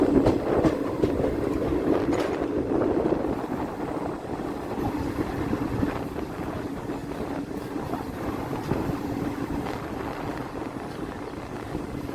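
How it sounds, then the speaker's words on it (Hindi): Tirupati Nizamuddin Sampark Kranti express train rumbling past a moving train on an Indian railway line, a loud continuous roar of wheels and carriages with rhythmic rattling throughout, no voices. "सामने से कोई ट्रेन आती हुई तिरुपति निजामुद्दीन संपर्क क्रांति है शायद"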